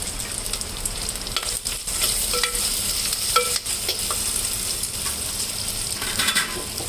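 Ginger-garlic paste with mint and fenugreek leaves frying in oil gives a loud, continuous sizzle close up, broken by occasional soft scrapes of stirring.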